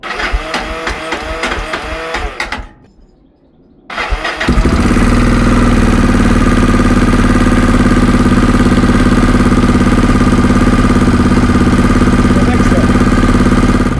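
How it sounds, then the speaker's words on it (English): A Yamaha XTZ660 single-cylinder motorcycle engine cranks and stumbles, cuts out briefly, then fires and settles into a loud, steady, close idle that runs on for about ten seconds. "the engine starts and it's sounding really good"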